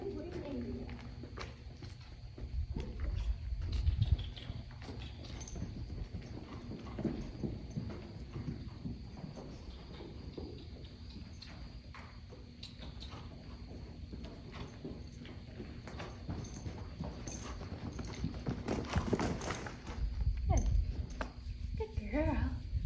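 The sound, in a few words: horse hooves walking and trotting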